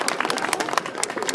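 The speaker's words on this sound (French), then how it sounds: "Il mérite une belle applaudissement" Audience applause for a firefighter at a fire station open house, brisk close clapping from a modest crowd with distinct individual claps, a voice speaking over it.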